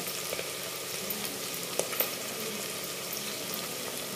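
Curry leaves and chilli dropped into hot oil with asafoetida and crushed garlic for a rasam tempering, making a soft, even sizzle throughout with a couple of faint clicks, quiet and with no voices.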